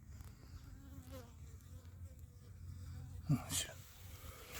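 A honey bee carrying pollen back to its hive on a cool spring afternoon buzzes faintly around the entrance, with a low insect hum and a louder close pass, while a person talks quietly.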